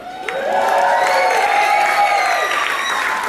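Wedding guests applaud and cheer for the couple Mike and Val, a steady wash of clapping with some whoops, close and loud for a few seconds.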